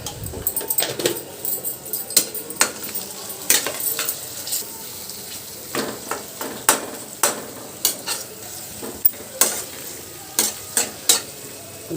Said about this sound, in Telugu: టమాటా కూడా వేగిన తర్వాత పసుపు వేసాము.